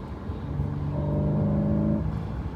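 A naturally aspirated flat-six in a Porsche 981 Boxster, out in the canyons, holds a steady, tonal engine note that swells briefly in the middle, heard from close by with no talking.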